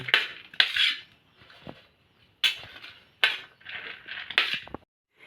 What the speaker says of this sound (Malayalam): ഇനി നമുക്ക് ഇവയെല്ലാം ഒരു സ്പൂൺ വെച്ച് അങ്ങോട്ട് മിക്സ് ചെയ്യാം